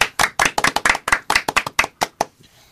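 A studio audience claps together in a brisk, uneven burst of about a dozen sharp hand claps, loud and close, tapering off at the end with no talking.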